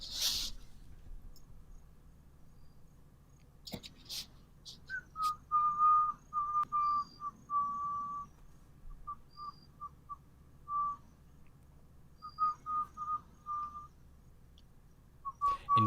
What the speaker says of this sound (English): Whoa, he's whistling?